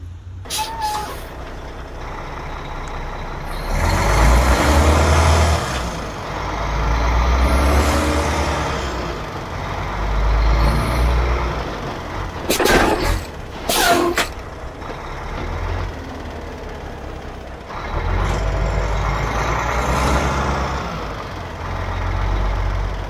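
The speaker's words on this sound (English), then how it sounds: "If you like truck sounds like me, you're gonna enjoy this part." A heavy truck's engine rumbles and rises and falls throughout, punctuated by sharp hissing bursts of air brakes and intermittent reversing beeps, loud and close.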